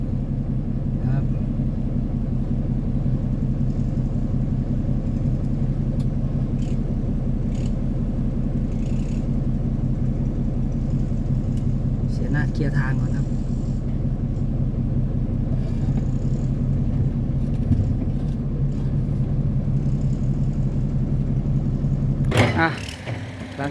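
Tractor and excavator working together at an earthen pond, a steady low engine rumble and drone running continuously, with someone talking over it and a sudden clatter near the end.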